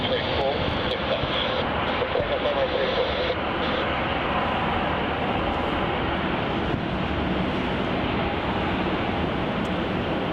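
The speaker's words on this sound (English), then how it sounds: "we're going to have Virgin Australia flight VA817 heading off to Sydney" A Virgin Australia jet, flight VA817 bound for Sydney, takes off from runway 34 at Melbourne Airport. Its engines give a steady, continuous roar throughout, with voices talking faintly in the background.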